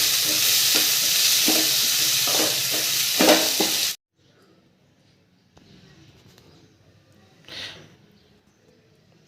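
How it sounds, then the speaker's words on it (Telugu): Potato pieces and bay leaf stirred into hot oil for upma, a loud steady frying sizzle with scraping strokes for about four seconds, then near silence with faint stirring and one brief hiss. "ఆలుగడ్డ ముక్కలు, బగారాకు వేసుకొని కలుపుకోవాలి."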